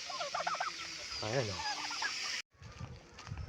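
Chickens, including Rhode Island Reds, cluck and call alongside turkeys and ducks on a rural farm, a busy close chorus of fowl with a brief break, and someone speaks over part of it.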